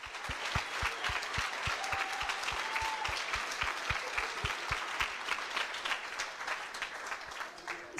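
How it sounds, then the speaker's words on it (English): A room full of people applauding graduating coding bootcamp students at a demo day, with sustained clapping and a few sharp, rhythmic claps standing out close by. "Let's have a huge round of applause"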